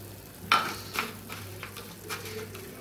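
A spoon knocks against a pan while minced beef keema with spices and tomatoes is stirred on the stove, a few scattered scrapes and taps over a faint steady sizzle and low hum.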